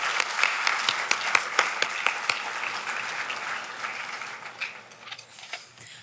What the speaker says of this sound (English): And just one round of applause, please, for this screen